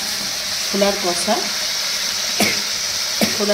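Spice masala for a chickpea curry fries with a steady close hiss, punctuated by a few light scraping clicks of stirring and a brief faint voice.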